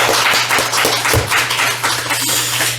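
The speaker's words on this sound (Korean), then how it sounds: "박수를 올려드리겠습니다." Congregation applause during a Sunday worship service in a Korean church, a dense, steady clapping from many hands filling the space without a break, fairly loud and close.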